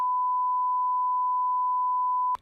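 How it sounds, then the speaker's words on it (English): A steady, pure censor bleep held for about two and a half seconds, loud and unbroken, ending abruptly as a brief sound cuts in. "I'm gonna beep this out."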